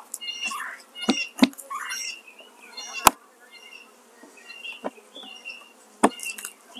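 Honey bees buzzing around an open beehive during a beekeeping inspection, a close, uneven drone punctuated by several sharp clicks and knocks of frames and hive parts, with no one speaking.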